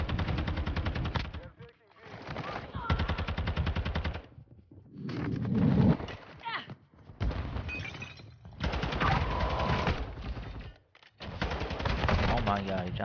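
Rapid bursts of automatic gunfire ring out in a ranked online shooter on the Himmelmatt map, several loud volleys broken by short pauses, with players talking over the shots.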